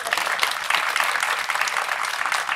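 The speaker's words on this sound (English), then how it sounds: "Give her a round of applause, please." Audience at the 2022 NYC Homelessness Symposium gives a round of applause: dense, steady clapping from a crowd, moderately loud and sustained without talk.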